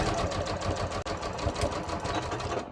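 Sewing machine stitching fabric for underwear over low-profile clips, a steady rapid mechanical chatter running continuously with a brief pause near the middle.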